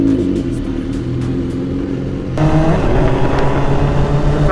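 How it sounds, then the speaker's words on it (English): A motorcycle engine revs and accelerates close by on a road ride, its steady rumble growing louder and fuller about halfway through as the throttle opens, with no talking. "Man, her bike sounds so good. It completely drowns mine out."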